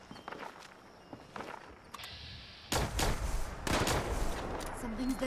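Gunfire in the video game Fallout 76: a few faint shots in the first seconds, followed by louder bursts of rapid fire at mid distance, with footsteps and game ambience around them.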